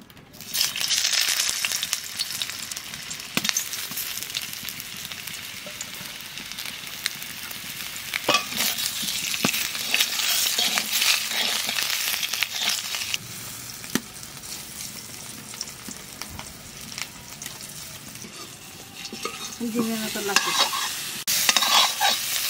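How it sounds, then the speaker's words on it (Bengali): Boiled taro frying with already browned onion and garlic, sizzling continuously while a utensil stirs and scrapes the pan at intervals, close and fairly loud with no talking. "পেঁয়াজ রসুন ভাজা হয়ে গেছে, এইবার যে কচুটা সেদ্ধ করেছিলাম সেই কচুটা একটু ভেজে নেব।"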